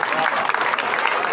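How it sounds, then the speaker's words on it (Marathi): An audience at a student reunion gathering claps for students, a short burst of dense applause with voices mixed in. "हा टाळ्या वाजा यांच्यासाठी."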